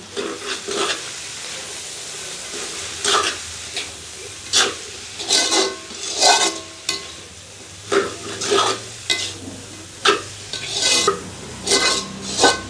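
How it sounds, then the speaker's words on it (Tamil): Kohlrabi and leeks stirred in a frying pan, loud, repeated scraping strokes in a steady rhythm, each a short rasping sweep with gentle sizzling between, close and without any voices. "கோவா லீக்ஸையும் போட்டுக்கொள்வோம் இப்படியே கலந்து விடுவோம்"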